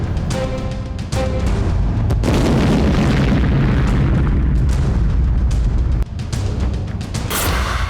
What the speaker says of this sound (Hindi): मल्टी बैरल रॉकेट के धमाके